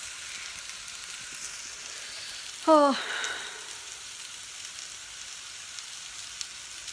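Soft, steady sizzle of food frying in a pan, with a brief spoken exclamation partway through.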